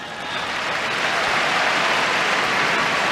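Loud, sustained roar of a big crowd cheering and applauding at the US Open men's tennis final in New York, Alcaraz against Ruud, swelling and holding steady without a break.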